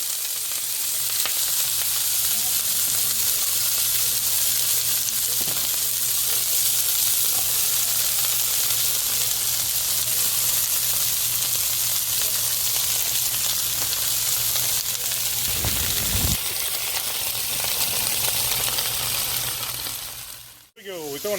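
Beef sizzles loudly in a hot pan for American-style Chinese cooking, a steady close hiss and crackle running unbroken before a brief clatter near the end.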